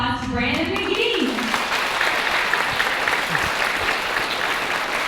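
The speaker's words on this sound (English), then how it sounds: "Let's give a big round of applause to Brandon Magee." Loud, sustained audience applause for a guest named Brandon Magee, a thick continuous roar of clapping that takes over right after a brief stretch of speech and holds steady throughout.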